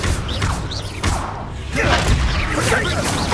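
Confringo blasting spells cast repeatedly in Hogwarts Legacy, heard as a run of loud whooshing bursts and crashing booms that overlap into a dense, steady barrage of game effects.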